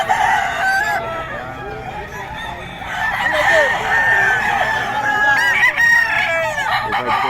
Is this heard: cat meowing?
no